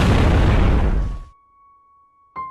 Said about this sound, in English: The explosion sent me flying.